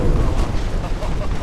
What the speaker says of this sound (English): 3 torpedo hits